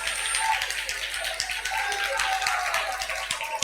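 Congregation clapping at a church service in Tenali, a dense steady patter of many hands filling the whole stretch, with a voice leading over it.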